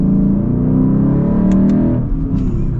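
A Lexus IS 500 with its V8 in Sport Plus mode accelerates hard, a loud, full-bodied engine roar that holds steady throughout with no one talking.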